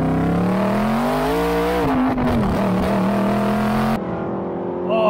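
An Aston Martin sports car with a loud, uncorked exhaust and little sound deadening revs hard nearby, its engine note rising and falling steadily before dropping away near the end.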